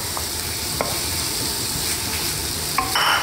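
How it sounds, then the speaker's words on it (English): Ginger and garlic paste hits onions frying in hot oil for a Bengali potato curry, giving a loud, close, continuous sizzle. A few clinks and scrapes of stirring cut through it, and no one speaks. "the oil is about to separate from the onions, you put in the ginger and garlic paste"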